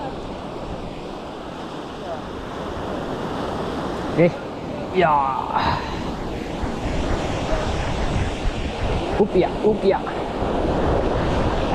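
Big ocean waves and surf roar continuously alongside strong wind buffeting, with a few brief shouted voices cutting through midway.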